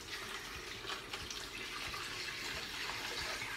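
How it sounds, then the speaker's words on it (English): Water is poured into a small Top Fin betta fish tank in a steady, soft, close splashing trickle that runs throughout and is fairly faint, with no talking. "You pour the water."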